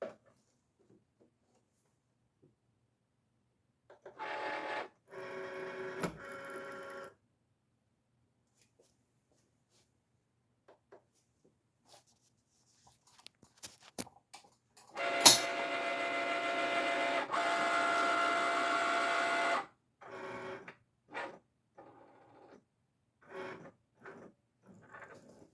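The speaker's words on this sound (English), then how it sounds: "So I'm going to place it into the Cricut machine. And again, this is the Cricut Maker." A Cricut Maker cutting machine runs in bursts, with mechanical whirring and buzzing passes of a few seconds each separated by quiet gaps and small clicks, close up and with no talk.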